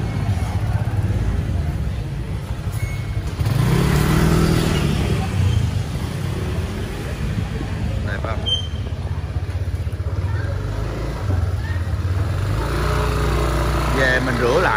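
Honda Rebel 300 motorcycle fitted with an aftermarket exhaust, its engine running steadily close by with a low throaty rumble and a brief swell around the middle, while people talk over it.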